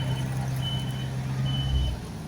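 A truck turning around sounds two long, high reversing beeps over its low idling engine rumble, which swells briefly near the end.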